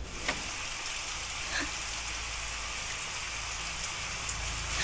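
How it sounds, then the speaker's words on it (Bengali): Steady rain falling on a surface, an even, continuous patter that holds close and moderately loud throughout with no voices. "আবার বৃষ্টি"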